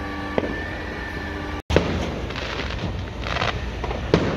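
Crackling bursts and scattered pops of fireworks going off at a distance, with a sharp bang near the start and another near the end.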